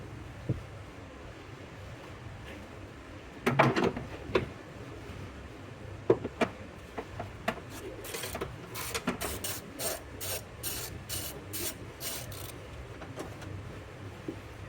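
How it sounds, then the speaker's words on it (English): A ratchet wrench loosens 13 mm bolts on the battery bracket of a BMW X3 F25. Faint clicks and scrapes come first, then a quick, close run of repeated ratcheting clicks. "We have a 13 millimeter here and a 13 millimeter right down in there that we need to loosen and remove out."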